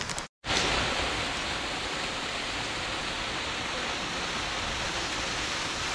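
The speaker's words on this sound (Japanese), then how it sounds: "ちょっと滝が見える。" A steady, loud roar of falling water from Mifune Falls, a partly frozen waterfall in the Yoshino River system, fills the clip with continuous dense hiss. It breaks off only briefly near the start, and no voices are heard.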